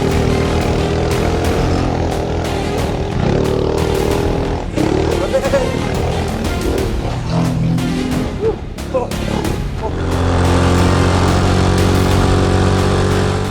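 Engine of a Coleman B200R mini bike running steadily and loudly nearby, with a constant droning hum that holds through the whole stretch and swells slightly near the end.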